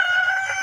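A hen's brief, close clucking cry rings out clearly against a quiet background, with chicks about six weeks to two months old nearby.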